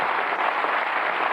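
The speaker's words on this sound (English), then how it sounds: "A round of applause" Studio audience applause on a 1996 television game show, a steady dense wash of clapping held at an even level for a brief stretch.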